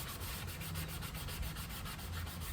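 A sanding block with 80 or 100 grit paper rubs back paint during a boat nose repair, a close, steady rasping scrape in quick back-and-forth strokes.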